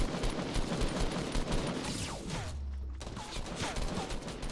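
Rapid bursts of gunfire in the video game Fortnite crackle continuously and loudly, sometimes overlapping into fusillades, with a brief lull near the middle; voices talk over the shooting.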